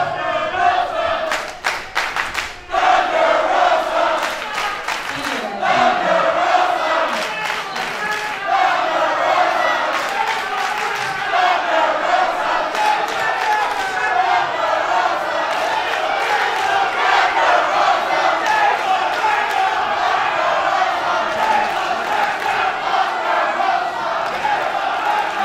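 A wrestling crowd at a live event roars, cheers and shouts steadily throughout, loud and dense, with sharp claps and thuds cutting through near the start.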